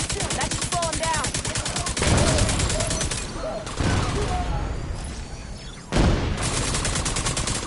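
Sustained gunfire aimed at a fuel tank in The Division 2 rattles in rapid bursts, near and loud, with brief pauses between volleys and a heavier burst near the end, while voices talk over the shooting.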